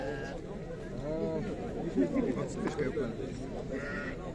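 Sheep and lambs bleat in a busy livestock market at Sokuluk, a few calls rising over steady crowd chatter and voices nearby.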